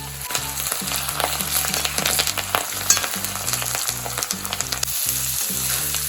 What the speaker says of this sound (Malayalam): ഇത് നല്ലോണം എണ്ണയിൽ കിടന്ന് ഒന്നുകൂടെ ഒന്ന് മൂക്കട്ടെ കേട്ടോ